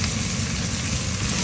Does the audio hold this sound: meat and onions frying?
yes